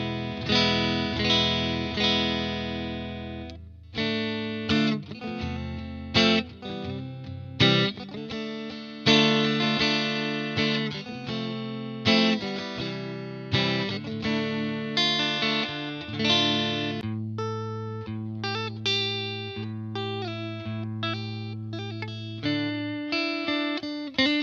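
Electric guitar played through a UA Dream '65 amp emulation of a Fender Deluxe Reverb, stock amp and first cab, strummed chords and single notes ringing out loudly and continuously with no talking.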